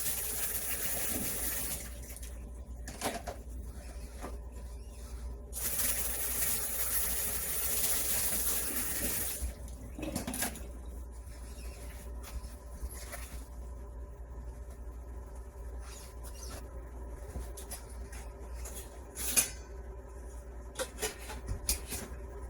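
Steady watery rush with faint bubbling, like a pot of water nearing a boil, running continuously with occasional brief clicks and knocks.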